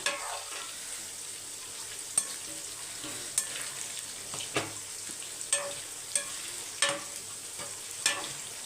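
Soya chunks fry in hot oil with a steady, fairly soft sizzle, broken by regular sharp clicks of a utensil tapping and turning them in the pan.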